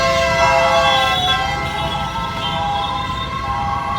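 An ambulance siren in India wails loudly and steadily, its tones sweeping over a constant rumble of nearby road traffic, with no voices.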